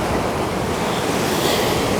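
Steady ocean surf washes continuously against a saltwater shore, loud and close with a constant roar and wind buffeting the microphone throughout.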